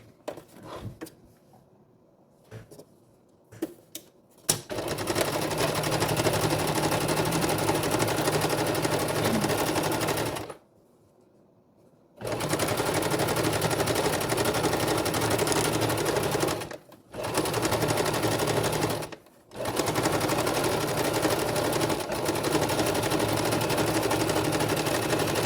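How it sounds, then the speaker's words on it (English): A sewing machine stitches around the border of a fabric chicken on a cloth activity page, running in long, steady, close bursts separated by brief pauses, with no talking. "I'm gonna start with sewing right here on the tail"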